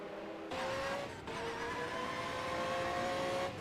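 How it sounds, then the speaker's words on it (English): A 1991 Jaguar race car engine droning loudly at high revs, with sudden drops in pitch as the driver misses a gear, then climbing again, close and continuous with no voices. "as he actually misses a gear there by the sound of things"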